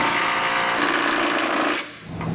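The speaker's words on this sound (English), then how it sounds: "we'll come back with a 3/4 inch or 19 millimeter socket and snug it down." A power tool drives trailer hitch bolts with a 3/4 inch (19 mm) socket on a 2021 Ford Escape, a loud steady whir that cuts off abruptly near the end, leaving quieter background.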